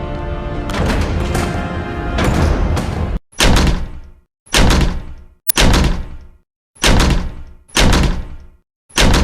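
A series of heavy door slams from a fantasy film, five sharp thuds in a row, each followed by a short decay and near silence. The first few seconds are denser, with layered movement and clatter before the slams begin.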